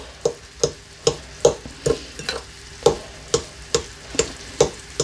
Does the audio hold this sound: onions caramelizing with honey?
yes